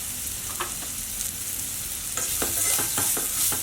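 Onions sautéing in a pan for restaurant-style dal fry sizzle steadily up close, and a run of sharp spatula scrapes and taps from stirring becomes busier toward the end.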